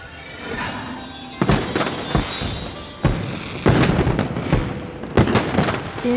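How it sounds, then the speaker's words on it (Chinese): Fireworks go off in a fantasy period drama scene: several sharp bangs and booming bursts arrive at irregular intervals over a crackling, rumbling background, moderately loud and alone. "再为我放一次烟花。"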